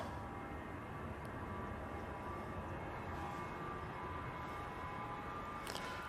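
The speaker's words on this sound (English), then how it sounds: "737-800 now on the roll" A TUI Boeing 737-800 rolls down the runway at Manchester Airport for takeoff, a steady, broad jet engine roar that holds at a constant level throughout without any talk.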